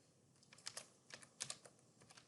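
Light, quick keystrokes on a computer keyboard in a quiet room, an irregular patter of faint clicks with no talking.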